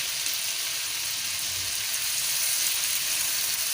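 Cumin, coriander and crushed chillies roast in a pan on a low flame for an aloo paratha filling, giving a steady, soft, even sizzle and crackle throughout with no talk.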